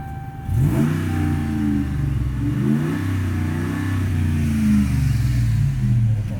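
A 5.7 liter V8 engine in a 2009 Dodge Ram 1500 truck idles with a deep rumble, then revs up and settles, its low throaty growl steady and close.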